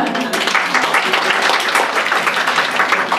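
A room full of people at a tarot congress in Chile claps steadily, a dense, even patter of applause with no pauses.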